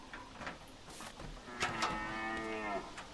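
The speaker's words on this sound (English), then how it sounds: "So the moose makes cow noises." A moose in the survival video game The Parasites gives a drawn-out, cow-like lowing moo, rising and wavering for over a second, over quiet clicks and rustles of background game noise, with no talking.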